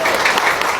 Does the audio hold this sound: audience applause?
yes